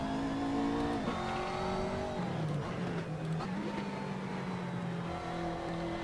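A race car in Assetto Corsa re-accelerates on track, its engine note climbing and dropping through gear changes as the tyres lose grip, loud and continuous with no talking.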